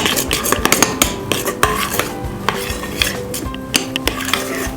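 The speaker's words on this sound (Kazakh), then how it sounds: "Какаомызды салған болатымыз, енді араластырып жатырмыз." Spoon stirring chocolate cake batter with cocoa in a bowl, a steady run of close scraping and clinking strokes with a few sharper taps against the bowl.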